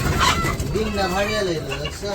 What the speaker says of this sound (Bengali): মোরগে মাইরা লাগে